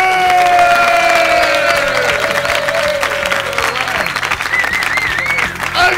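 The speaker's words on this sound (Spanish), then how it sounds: "Un fuerte aplauso para él," A loud studio audience in a comedy talk show breaks into applause and cheering, dense clapping with whoops and shouts close up, while a voice carries over it throughout.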